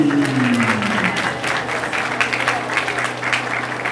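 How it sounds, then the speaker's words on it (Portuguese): A crowd at a rap battle bursts into sustained applause, dense clapping filling the space, with a brief voice at the start fading under it. "Palmas para a batalha."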